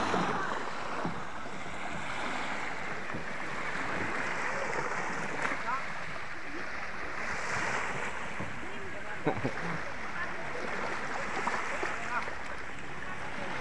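Fishing boats out on a clear sea heading to squid grounds, with a steady broadband wash of waves and wind filling the whole stretch, faint engine and water noise blending in under occasional talk.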